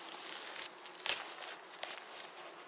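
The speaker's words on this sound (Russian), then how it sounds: "Так, у меня тут пчелки." Honey bees hum inside a beehive being insulated for winter, a faint steady buzz broken by a few brief knocks and taps from handling the hive.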